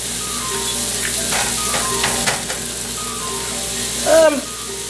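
Escargots sautéing in a generous amount of butter give off a soft, steady sizzle close by, with a few light stirring scrapes and a brief squeak near the end.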